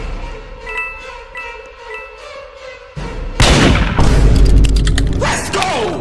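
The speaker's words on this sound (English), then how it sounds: "Here's a lot of gunshots." A burst of loud, dense gunfire erupts partway through a Roblox Murder Mystery 2 match, with rapid overlapping shots and booms after a quieter stretch of background tones.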